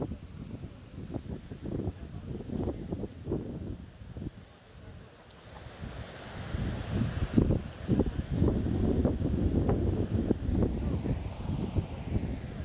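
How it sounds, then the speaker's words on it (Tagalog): Strong wind gusts across a seashore in bad weather, buffeting the microphone with a rough, rumbling roar that eases briefly and then builds louder and steadier through the second half. "Yan, lakas ng hangin."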